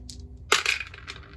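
Dice clatter onto a table during a board wargame, a quick burst of hard plastic rattles settling over about a second, close and fairly loud.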